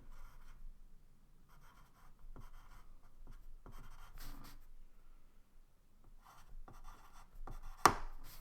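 A pencil scratching freehand strokes on paper in quiet, intermittent bursts, then a single sharp snap near the end as the tip breaks.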